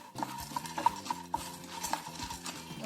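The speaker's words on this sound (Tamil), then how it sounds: "நிலக்கடலையும் லேசாக வறுத்துருங்க." Lightly roasting peanuts are stirred in a pan, making soft scattered scrapes, rattles and metallic clinks of a spoon against the pan, quiet and close without talk.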